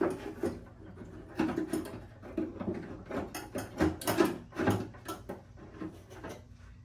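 Metal clicks, taps and rattles as an arm and latch are slid into place inside a car's rear door, a Nova 9C1, with irregular close-up mechanical knocks and scrapes throughout and no speech.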